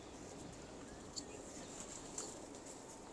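Pigeons kept by a fancier, soft cooing and faint wing flaps in an outdoor setting with steady background noise, quiet and somewhat distant.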